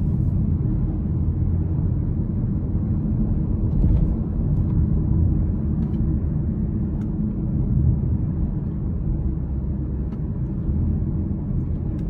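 A 340-horsepower non-turbo car engine pulls steadily under acceleration, a deep continuous rumble heard from inside the cabin with no voices.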